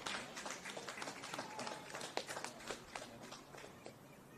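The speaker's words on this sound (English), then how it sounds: "And as Monique Holder gets a well-deserved round of applause." Spectators at a women's league football match clap for a player leaving the field as a substitute, a thin, scattered round of applause heard from a distance, steady for several seconds.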